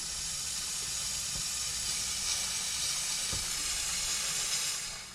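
Steady, loud hiss of pressurized air leaking from a gauge on a 6.0L Powerstroke diesel engine, with a faint low rumble underneath and no voices.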